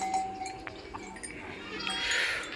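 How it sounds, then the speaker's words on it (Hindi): A goat bleats faintly in a village livestock shed, a short distant call set against quiet rural background noise. "वो बकरी छड्डी तो वो बलावे लवा लग पई है।"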